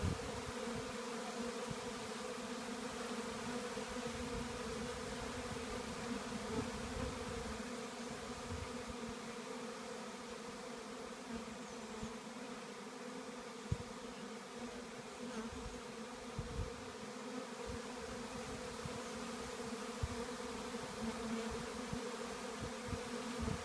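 A swarm of bees buzzes around a bee trap outdoors, a steady, layered drone of many wings held at a soft, even level, with occasional louder passes as individual bees fly close.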